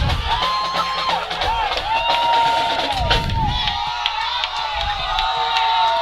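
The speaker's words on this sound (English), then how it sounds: "And this Woodbridge crowd is getting excited here, Jordan." A high school football crowd at Woodbridge cheers and whoops in a loud, continuous roar, with whistles and shouts rising over the din.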